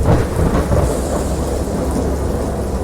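Dense rain pours down with deep rolling thunder beneath it, a loud, unbroken storm wash with no talking, from a thunderstorm in the narrative horror video game Dagon.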